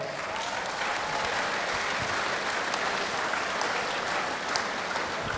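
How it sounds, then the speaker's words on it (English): Steady applause from a sizable audience at a sheep shearing competition final, a dense continuous patter of clapping that holds at an even level throughout. "I'd just like you to give all the competitors another round of applause"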